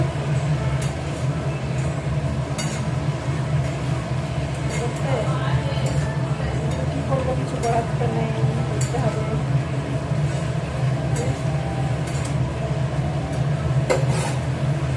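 A kitchen chimney exhaust hood runs in a home kitchen during cooking, a steady low droning hum throughout with faint clinks and scrapes of utensils, while someone talks over it.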